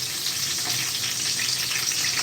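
Cooking oil hissing and sizzling steadily in a pan for a Filipino mung bean dish, a dense, continuous close-up fry with no talk.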